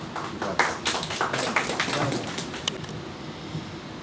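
Audience applause greeting a poet taking the stage at an Eid Milan poetry gathering, a steady patter of many clapping hands at moderate volume that thins out toward the end.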